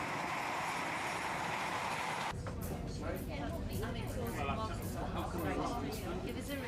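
Metro train at Shiremoor station, a steady rumble that shifts into rattling wheel clatter and squealing metallic clicks as it moves along the platform, loud and close, with a voice talking over it.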